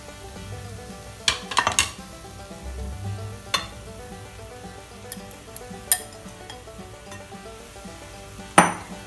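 Chicken pieces hit a hot pan over a high flame and fry with a steady sizzle, broken by sharp scrapes and clinks of a spatula against metal at irregular moments.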